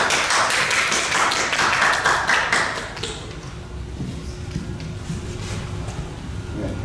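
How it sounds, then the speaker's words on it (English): Audience applause at an academic lecture, fairly close and brisk for about three seconds before fading into quiet room tone. "Applause."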